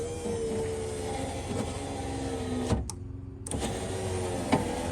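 Foxbody Mustang power window motor driving the glass, a steady whirring drone with a brief stop partway through, then the motor runs again, close and alone.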